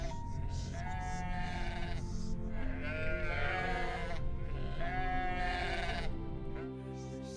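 Sheep bleat repeatedly over a steady murmur, several drawn-out, wavering cries overlapping one another at close to moderate distance.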